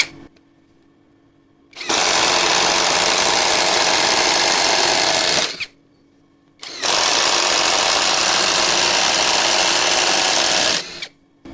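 An APR AP127+ impact wrench runs a fan-style drill bit fitted directly without an adapter at its highest variable speed, a loud steady whirring that runs for several seconds, stops briefly, then spins up again alone.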